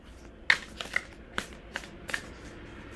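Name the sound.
tarot cards being shuffled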